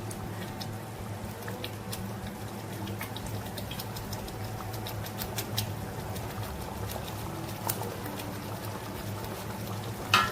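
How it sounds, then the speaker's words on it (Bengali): Fish curry gravy for doi katla, a yogurt-based katla fish curry, bubbling at a boil in a pan: a fairly faint, continuous crackle of popping bubbles with scattered sharper pops and no speech. "ঝোল ফুটে উঠেছে"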